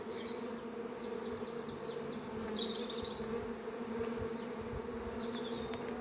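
Honeybees buzz steadily and fairly close around an open, crowded hive during a spring inspection, a continuous drone with faint bird chirps in the background.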